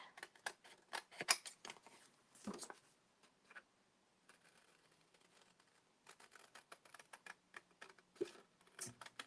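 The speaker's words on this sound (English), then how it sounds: "now all you're going to do is trim it." Scissors trimming a sheet of copy paper up close, a run of quick crisp snips and rustles, pausing midway before a few more cuts follow.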